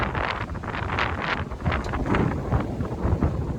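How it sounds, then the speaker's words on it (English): Wind of about 17 to 18 knots while sailing, heard as loud gusty buffeting against the microphone with rising and falling surges throughout. "Probably, I don't know, 17, 18 knots of wind."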